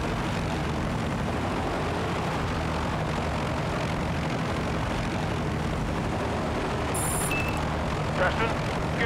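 A helicopter in the video game Battlefield: Bad Company drones with a steady, loud engine and rotor roar that fills the scene, with voices talking over it.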